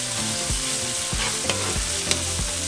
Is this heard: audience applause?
no